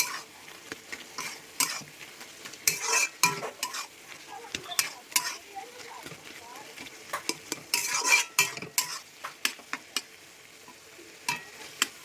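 Pointed gourd curry (potol dorma) being stirred and sautéed in a pan with chilli powder, the spoon scraping in irregular bursts over a steady soft sizzle, close and fairly loud with no talking.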